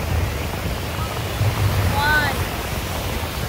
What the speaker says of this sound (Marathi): अजून एक लाट, अजून खूप सारे लाटा येतात.